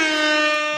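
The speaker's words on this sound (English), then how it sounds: "Get you some air horns." An air horn sound effect gives one loud, sustained, brassy blast that holds steady for nearly a second before fading slightly at the end.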